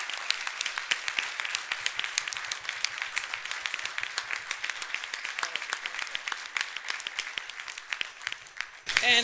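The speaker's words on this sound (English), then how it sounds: "And one big applause for all of you" A conference audience at a diplomacy conference closing session applauds steadily, dense sustained clapping filling the room for several seconds before a voice cuts in at the end.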